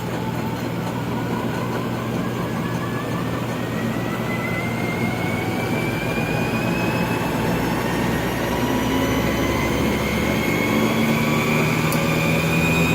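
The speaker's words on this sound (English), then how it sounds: "Turn on the gen. Generator's on, and put some RPM on it." A generator on a master control unit test setup running steadily with its RPM raised, a loud continuous mechanical drone with rising tonal whine throughout, no talk.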